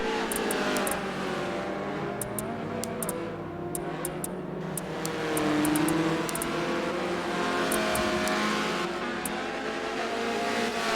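Race cars in a Forza video game race roar close by as engines rev and pass, with layered engine notes and occasional faint ticking, and no talking.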